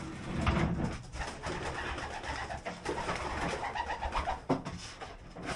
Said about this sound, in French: il faut aller aux pigeons